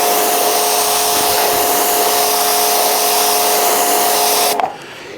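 Loud, steady broadband hiss of a V-Tuf V5 pressure washer spraying through a 40 degree nozzle, running close and constant before cutting off sharply near the end.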